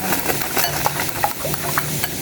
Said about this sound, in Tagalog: And tapos durugin na po natin mga itlog. Tapos yung, halu-haluin.